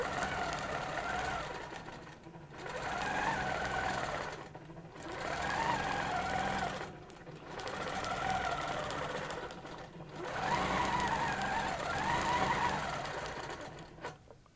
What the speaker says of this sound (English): Let's stitch one more.